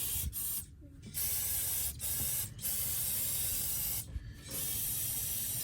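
Aerosol spray cleaner hisses in several long bursts with short gaps, washing old brake fluid off the brakes of a square body cab chassis truck.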